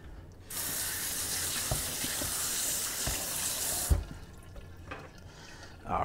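Zucchini and yellow squash rinsed under a running kitchen tap: a steady rush of water splashing for a few seconds, then cutting off, followed by a couple of faint drips and clatters.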